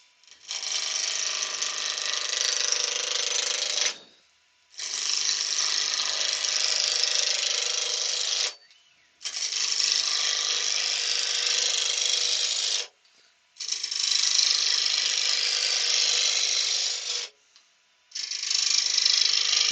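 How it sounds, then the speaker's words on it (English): Roughing gouge cutting a wand blank spinning on a wood lathe, a steady hissing, rasping cut in five long passes of about three to four seconds each, separated by brief pauses, close and fairly loud with no talking. "I'm just going to use a rough and gouge to rough this to round"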